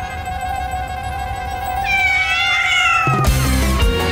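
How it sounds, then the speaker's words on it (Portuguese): Several cartoon cats meow loudly in overlapping, drawn-out cries, growing more intense toward the end. "Gatos! Estão seguindo aquele cãozinho e a Kate!"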